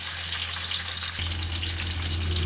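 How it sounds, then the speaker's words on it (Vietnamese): Snakehead fish fries in oil over low heat, a steady dense sizzle with crackling that continues throughout, growing slightly fuller partway through, with no talking. "Mình chiên ở lửa nhỏ để cho cá của mình nó chín và vàng đều."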